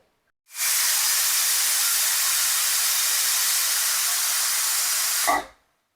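A pressure cooker cooking white chickpeas lets out its first whistle, one long, loud, steady hiss of steam lasting about five seconds before cutting off sharply.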